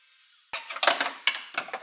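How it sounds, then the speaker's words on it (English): A hand power tool cuts the upper plastic flange of an EZ-GO golf cart dash, starting abruptly with a whirring rasp that rises in bursts of gritty grinding, close and fairly loud. "I'm going to go ahead and cut this upper flange out."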